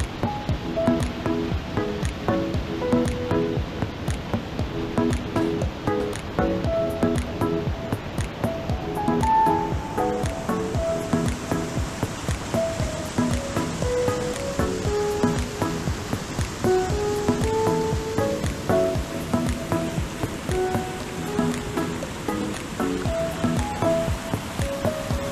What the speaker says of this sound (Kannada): ಬಟ್ ಸರಿಯಾಗಿ ಮಳೆ ಸ್ಟಾರ್ಟ್ ಆಗೈತೆ